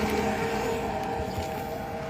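A loud e-bike motor running in a steady, droning whine close by, holding level throughout.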